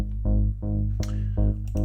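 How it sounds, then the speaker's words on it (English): A pulsing synthesizer bassline made in Serum with a heavy sub-oscillator layer and distortion, short rhythmic notes stepping between pitches, electronic and full, with no voices. "bassline is something I made in Serum"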